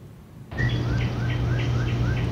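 Birds in a horror video game chirp in a bright, repeating pattern of short calls that begins suddenly and stays steady over a low ambient hum, with no talking.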